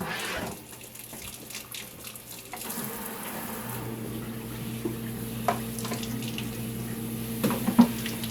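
Cold water runs steadily from a tap, a constant rushing stream with occasional small knocks and clinks nearby, and no voices.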